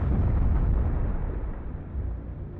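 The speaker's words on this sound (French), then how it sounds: "Il commence à se disloquer, avant d'exploser en libérant la puissance d'une petite bombe nucléaire." Deep rumbling explosion of an asteroid breaking apart in the atmosphere, a loud sustained low boom that slowly fades over a few seconds.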